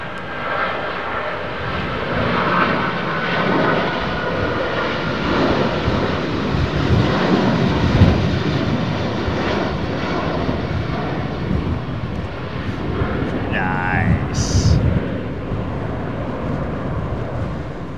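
The Doomsday Plane flies over London Heathrow Airport with a loud, continuous engine roar that swells through the middle, steady and near, with a brief higher whine toward the end.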